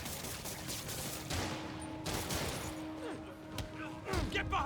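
Gunfire fills a tense street fight in the Marvel's Spider-Man video game, with bursts of rapid shots and crashing impacts that stack over one another. Excited voices shout between and beneath the volleys.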